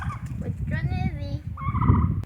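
Turkeys gobble in a rapid warbling burst, then another gobble follows, close by against a low rumbling background.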